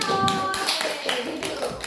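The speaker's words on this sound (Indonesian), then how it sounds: "Oke, tepuk tangan dulu untuk kelompok 1." Classmates clap for group 1 after a peer-teaching presentation in a training class, a short burst of scattered hand claps and taps, fairly close, with voices mixed in.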